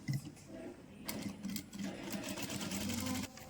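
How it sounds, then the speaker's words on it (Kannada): A sewing machine sews a top stitch around a kurta neckline, a close, continuous rattling whir that runs without pause for several seconds. "top stitch ಹಾಕೋತಿರೋದು"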